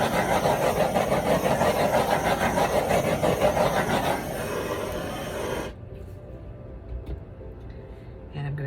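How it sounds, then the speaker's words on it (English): A torch plays over a freshly spun acrylic paint pour with a loud, steady roaring hiss for nearly six seconds, easing slightly partway through, then cutting off and leaving quiet room tone. "Well, I'm going to have to torch it first."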